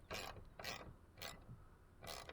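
Ratchet tightening the bottom bolt of a hood strut bracket on a 2005-2014 S197 Ford Mustang: four quick bursts of close, crisp clicking spaced by short pauses.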